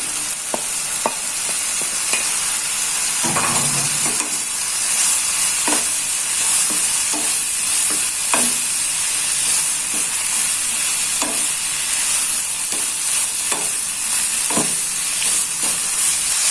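Shredded chicken stir-fries with chili and spices in a hot pan, a constant loud close sizzle punctuated by regular spatula scrapes and stirring clatters throughout.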